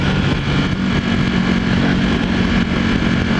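A Ducati Panigale R motorcycle engine pulls steadily in high gear while riding, a loud unbroken drone mixed with rushing wind noise and no pauses.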